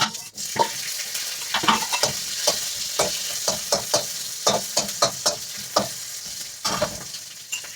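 Cumin seeds sizzle and crackle in hot oil, a close, lively frying hiss full of rapid pops and bursts that pulse irregularly throughout, with no voice over it.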